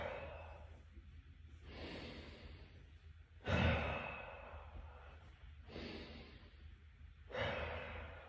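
Slow, deep cleansing breaths taken while holding a child's pose stretch, each long airy inhale or sigh-like exhale swelling and fading in a steady rhythm, close and fairly soft with quiet pauses between.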